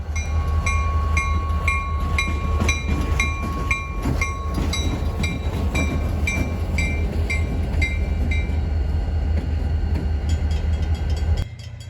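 A U.S. Sugar diesel locomotive, number 410, hauls a sugar cane train past at close range, with a loud continuous engine rumble, rhythmic wheel clicks over rail joints and a steady metallic ringing tone.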